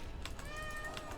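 A cat gives one drawn-out, fairly faint meow over a steady background hiss, with no talking.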